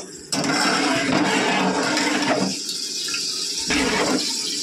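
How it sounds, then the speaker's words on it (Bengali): Water poured into leftover dal in a steady gushing splash that starts abruptly, then shifts and thins into a lighter trickle before surging again, close and fairly loud without speech. "এইবারে এই জলটা আমি ডালে ঢেলে দেবো।"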